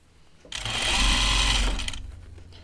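A sewing machine stitches a seam on an Archer button-up casual shirt, running over fabric gathers in one steady, close burst of whirring that rises quickly, holds, and fades.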